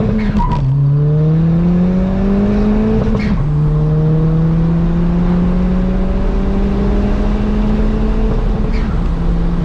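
A hybrid-turbo widebody Ford Fiesta ST accelerates hard on a quarter-mile run, loud and close: the engine pitch climbs steadily, drops sharply at each gear shift, then climbs again, over continuous road and wind roar.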